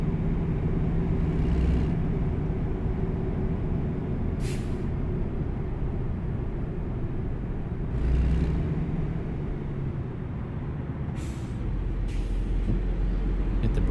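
Heavy-haul truck in American Truck Simulator braking hard, a low engine drone running throughout with several short hissing air-brake bursts at intervals, one stronger surge of rumble midway.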